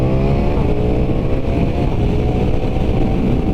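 A 2023 Ducati Diavel V4 motorcycle engine pulls hard under acceleration, a loud, steady, close-up roar with a harmonic drone that holds throughout without pauses or speech.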